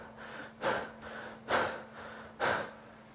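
A man imitates the heavy breathing of aerobic exercise with three forceful, evenly spaced gasping breaths, loud and close over a faint steady hum.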